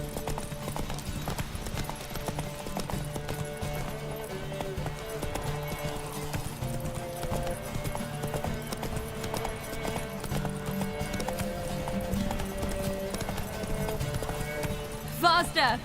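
Galloping horse in The Witcher 3 video game, steady rapid hoofbeats running throughout under game music, with a brief whinny-like burst near the end and a voice talking over it.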